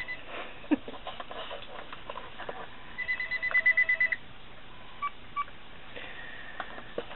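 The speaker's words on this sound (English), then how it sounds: "my phone's ringing" A phone rings indoors in a crafting room, with a quick run of faint electronic pulsed beeps and then two short tones, distant and thin, with no talk.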